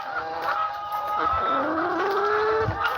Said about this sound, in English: Got the rooster, and then you got the hen.